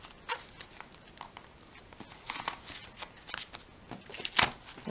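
Playing cards shuffled and one card drawn, a quiet run of soft riffling flicks and paper slides with a sharper snap near the end, no voice.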